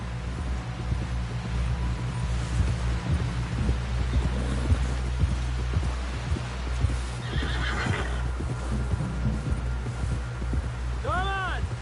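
In the video game Red Dead Redemption 2, a horse whinnies loudly near the end after a run of clip-clopping hooves, with wind in the background and speech faintly mixed in.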